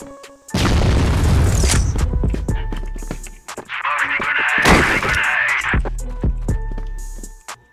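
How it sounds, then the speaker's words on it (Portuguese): A grenade going off in a video game: a loud, close, deep boom with a long rumbling tail, followed by a second blast and scattered smaller pops and gunfire. "Granada!"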